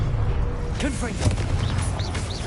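Confringo blasting spell in Hogwarts Legacy, striking statues: a booming impact with crackling, whooshing magical effects and rising chirps, layered over a continuous low rumble of game sound.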